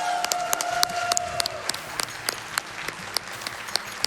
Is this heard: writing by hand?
no